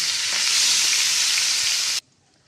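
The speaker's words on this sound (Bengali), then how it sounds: "মাখানো হয়ে গেছে আস্তে আছে মাছগুলোকে মধ্যে ছেড়ে দেবো" Hilsa fish pieces dropped into hot oil in a wok, setting off a loud, close, bright sizzle that holds steady for two seconds and then cuts off abruptly.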